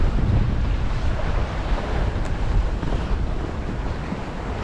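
Strong wind roars across the microphone over the steady wash of waves as a sailboat runs between Gigha and Campbeltown on a grey, breezy Scottish day, with no voices.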